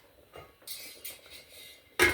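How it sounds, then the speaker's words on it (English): A lid going onto a cooking pot holding about two cups of water: a few light metallic clinks and scrapes, then a sharp, loud clatter as it settles at the end. "we're going to put the top on it"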